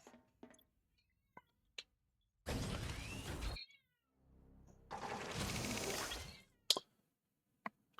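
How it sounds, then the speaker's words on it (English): A cat lets out two long, drawn-out meows separated by a pause, with a few faint clicks and taps around them in an otherwise quiet room. "I don't know if you can hear my cat, but she's fussy because I'm on the computer."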